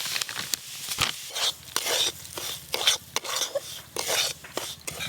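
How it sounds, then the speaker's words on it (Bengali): Semolina roasting in ghee in a pan, a spoon scraping and stirring in quick, uneven strokes with a faint sizzle underneath, close up and without talk. "ঘি দিয়ে সুজিগুলো হালকা লাল লাল করে ভেজে নিয়েছি"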